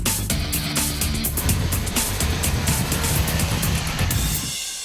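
An original BMW M3, about 25 years old, pulls hard and accelerates on a track, its engine loud and close with a steady rising drone before cutting off abruptly at the end.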